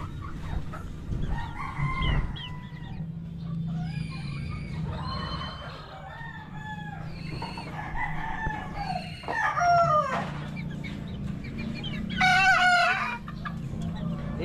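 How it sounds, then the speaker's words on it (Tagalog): Several young Boston Roundhead and SBR gamecock roosters crow in turn over clucking chickens, the calls overlapping at moderate distance, one crow especially loud and close near the end. "Tumitilaok na mga guys ang ating maliliit."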